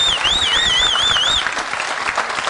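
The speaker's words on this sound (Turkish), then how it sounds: "ben Giray'a özel bir alkış istiyorum" A studio audience on a Turkish comedy game show bursts into strong, loud applause while a whistling tone warbles over the clapping early on, then the clapping thins slightly.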